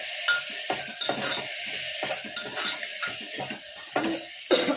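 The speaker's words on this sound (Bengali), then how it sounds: "এটাকে ভালো করে নেড়ে নিই।" Moong dal cooking with Kashmiri chili powder and turmeric is stirred in a pot, giving a series of close scraping strokes against the metal over a soft sizzle, with occasional light clinks.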